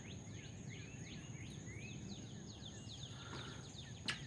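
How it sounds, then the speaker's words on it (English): Birds in a quiet city park, with repeated thin high chirps and tweets at moderate distance over a soft background hum, and one sharper call near the end. "I hear birds in the background"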